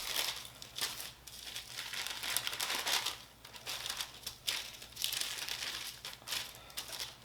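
Paper crinkles and rustles in repeated bursts as everything bagel topping is pressed onto stuffed air fryer pockets, close and fairly soft, with no talking.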